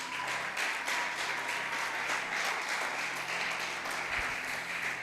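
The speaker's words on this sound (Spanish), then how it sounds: "Dele un aplauso al Señor." A church congregation applauds steadily throughout, a dense, even wash of many hands clapping at close range, with no voice standing out.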